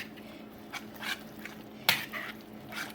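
Quiche filling with eight ounces of cheese gets stirred in a bowl, making soft scraping and clinking taps of a utensil, faint and close, with one sharper clack partway through.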